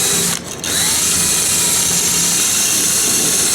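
A power sander whines loudly and steadily against the aluminum hull of a Bass Tracker boat, working around rivets, close up with a brief dip near the start.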